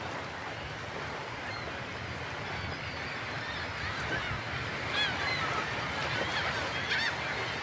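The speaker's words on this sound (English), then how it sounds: "We are soon surrounded by a flock of gulls." Gulls crowding around a fishing boat off Norway, honking and squawking calls scattered over steady water and engine noise, with the cries growing louder near the end.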